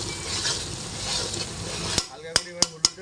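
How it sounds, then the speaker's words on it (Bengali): Ginger, garlic and onion fry in a kadai for chicken kosa, a dense sizzle filling the first two seconds before the hiss drops away and a spoon scrapes and clanks against the pan four times in a quick, uneven rhythm. "এটা ভালো করে কষাতে হবে আদা রসুন পেঁয়াজটাকে"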